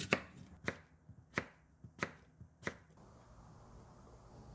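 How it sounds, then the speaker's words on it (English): A knife chops an apple on a cutting board for Korean water kimchi, sounding as about six crisp, evenly spaced thuds, quiet and close with no talking. "And cut the apple into similar size with radish."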